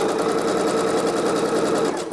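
Loud and close, a sewing machine stitches a coat seam in one unbroken, rapid, even whir that fills the whole moment with no voices.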